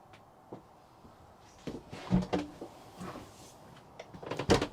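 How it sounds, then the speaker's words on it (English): A few soft knocks and small mechanical clicks from a 2020 Rollerteam T-Line 743 motorhome's bathroom privacy door being handled, ending with a sharper latch click near the end. "bathroom door can be used as a privacy door, just clicking in place there"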